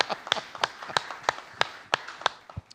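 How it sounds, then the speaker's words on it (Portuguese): A congregation claps in a church service, with sharp, evenly spaced claps about every third of a second, steady and moderately loud. "E uma salva de palmas a Ele"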